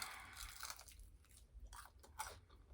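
Crispy fried chicken wings bitten and chewed close to the mouth during a mukbang meal, several crunchy bites and squishy chews in quick succession, faint and intimate with no talking.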